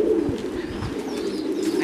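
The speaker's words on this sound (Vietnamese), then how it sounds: "Nó tên đầy đủ đó là bồ câu gà Mỹ anh em ạ." An American giant pigeon coos up close, a soft low throaty burble repeating in quick pulses with no talking.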